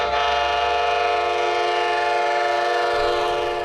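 A train crosses Lake Pontchartrain on a 5.8-mile trestle, heard as a loud, sustained tonal drone like a horn over a low rumble, steady for the whole stretch.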